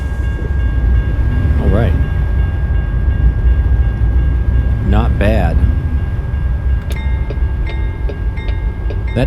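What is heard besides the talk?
train passing a rail crossing in American Truck Simulator video game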